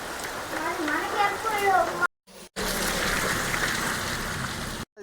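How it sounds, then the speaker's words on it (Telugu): Heavy rain falling outside during a pilgrimage trip to Sabarimala, a dense continuous hiss of drops on surfaces, loud and near, with a person talking over it and two brief cuts to silence. "ఫుల్ వర్షం పడుతుంది."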